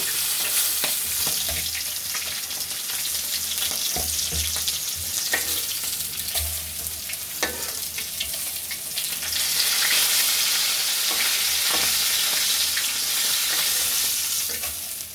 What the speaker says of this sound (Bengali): আমার মাছগুলো কিন্তু ভাজা হয়ে গেছে প্রায় এখন এগুলোকে তুলে নিতে হবে